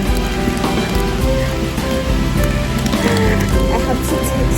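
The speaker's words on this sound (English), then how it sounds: "But mom, rain is cool." Steady rain pattering on surfaces outdoors, a dense continuous patter with scattered drips, loud and unbroken throughout without a pause.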